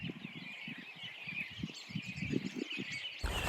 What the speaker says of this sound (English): Hear that? It's got to be 40, 50, maybe more robins